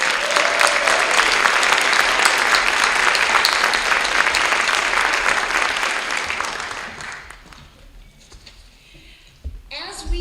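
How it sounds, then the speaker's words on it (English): An audience at the Wells College alumni association award ceremony gives a sustained round of applause, dense and loud for several seconds before tapering off to scattered claps and quiet. "So let's give these people another round of applause."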